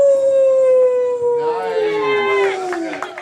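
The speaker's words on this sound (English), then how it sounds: "Give him a howl, please, Chris." A talent-show audience howls on request: one drawn-out, falling howl swells into several overlapping voices howling together and cheering, loud and close.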